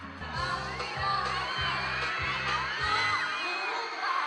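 A concert crowd cheers and screams for the performer at the 89th Araw ng Dabaw celebration, loud and sustained over pounding rhythmic bass beats from the stage music.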